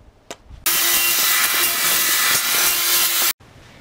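A saw rips through a sheet of foam insulation for a basement floor. A loud, continuous, raspy cutting noise lasts about three seconds and then stops abruptly, with quiet before and after.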